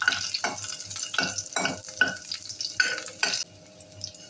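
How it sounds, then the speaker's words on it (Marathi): Four garlic cloves sautéing in hot oil for Kerala-style sambar, a soft sizzle under repeated spoon strokes that scrape across the pan in a steady rhythm, close up, no speech. "4 पाकळ्या लसूण घालूया. छान परतून घेऊया."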